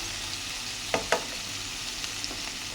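Curry fries and simmers in a pan with a soft, continuous sizzle, broken by a couple of sharp stirring knocks and small clinks near the start.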